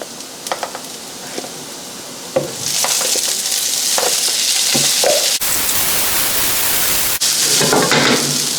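Beef tapa and rice fry in a pan with chopped garlic. A few light clinks come first, then a loud, steady sizzle takes over with brief scraping stirs, and it briefly cuts out twice.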